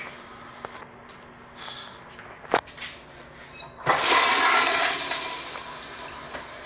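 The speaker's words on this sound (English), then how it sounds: "Just better give it one more flush." A pressure assist toilet, one with a weak, poor-performing flush, is flushed: a few small clunks and clicks, then a loud rushing surge of water that keeps roaring steadily to the end, heard up close with no talking.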